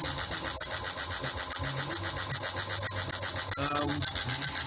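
An electric motor runs an oil film and stiction test rig testing Rotella T6 5W40 synthetic oil with Turbo Maxx additive, giving a steady, fast rhythmic pulsing whine with a low hum beneath and a brief clatter near the end.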